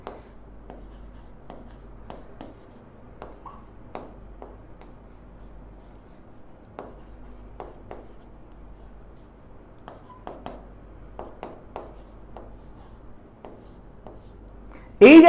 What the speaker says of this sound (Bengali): জাস্ট নিচের পার্টটাই আমি জাস্ট লিখি যদি।